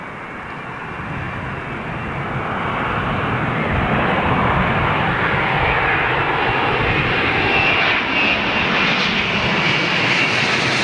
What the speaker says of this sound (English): another 787 coming in from Delhi